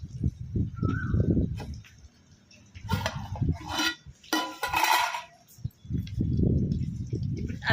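A cooking pot handled and set onto a stove in a home kitchen, with metallic clanks and scraping of pans and utensils in short bursts, close by, between stretches of someone talking.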